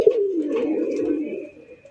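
Rasgolla pigeons at a farm give a low, rolling coo that starts with a sharp onset and sustains for nearly two seconds, close and fairly loud, with faint chirps in the background.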